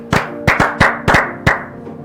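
A church congregation claps in praise, sounding as about six sharp, close claps in an irregular rhythm over two seconds with no talk.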